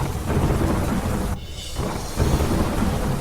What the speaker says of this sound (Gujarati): ભારે વરસાદ વરસતા રસ્તા જળમગ્ન થયા